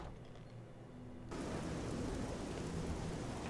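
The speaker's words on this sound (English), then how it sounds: "And into the rain." Steady broadband rain hiss in The Elder Scrolls IV: Oblivion, quieter at first and then swelling abruptly into a full, dense downpour as the character steps outside from a cave, continuing evenly with no talk.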